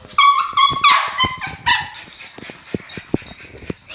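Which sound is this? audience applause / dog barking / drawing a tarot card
dog barking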